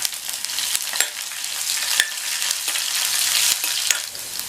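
Green chilli, ginger and broken cashews frying in hot oil, a busy close sizzle with crackling pops and occasional stirring scrapes that continue without pause and with no voices.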